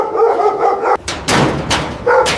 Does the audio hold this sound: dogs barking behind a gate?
yes